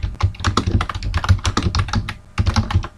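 Rapid, close typing on a computer keyboard as a name is entered into a PowerPoint footer, with steady clacking keystrokes and only brief pauses.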